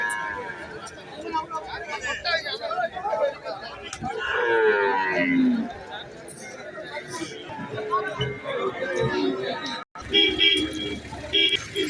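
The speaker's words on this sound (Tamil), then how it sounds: "கறவை மாடு" Busy cattle market with cows and calves, a low bovine moo rising among lively crowd chatter, voices throughout, and a vehicle toot near the end.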